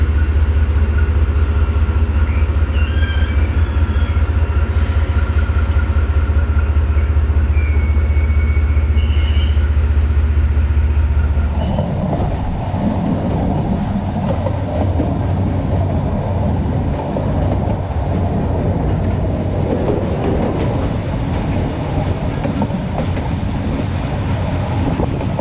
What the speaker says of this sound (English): they are going to park the train on the side track.